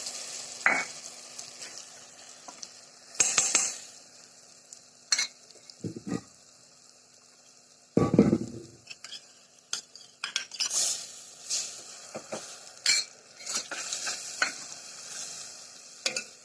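Green bean (sem) curry cooking in a pan at home: intermittent stirring scrapes and clinks of a utensil against the pan over a soft sizzle, with quiet gaps between bursts.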